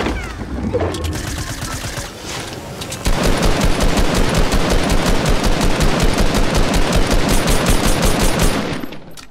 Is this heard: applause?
no